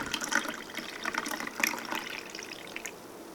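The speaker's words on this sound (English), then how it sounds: "Pour in the drink for yourself or for your guests." Saudi champagne, a fruit drink, is poured into a glass, a short gurgling splash of liquid filling the vessel, close up and moderately loud, tapering off near the end.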